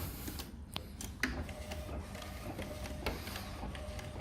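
A UV LED A3 printer runs, giving a continuous mechanical hum with scattered sharp clicks and taps as the print carriage moves.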